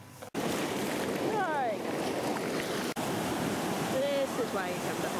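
Ocean waves breaking on a Hawaii beach, a continuous loud roar of surf with wind buffeting the microphone, broken by two brief dropouts, and a few faint chirps over the wash.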